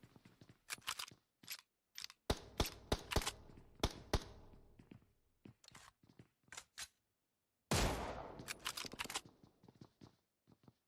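Gunfire in PUBG Mobile during a scrim, short sharp bursts and a spray of rapid shots coming in separate clusters with quiet gaps between them, fairly near and crisp.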